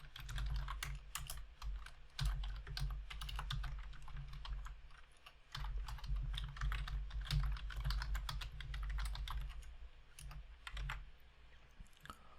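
C++ code is typed on a computer keyboard in a steady stream of close, crisp key clicks with brief irregular pauses, heard alone without speech.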